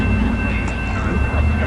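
A train passes through 30th Street Station at night, Amtrak or NJ Transit, as a steady, loud low rumble with a constant high whine running alongside.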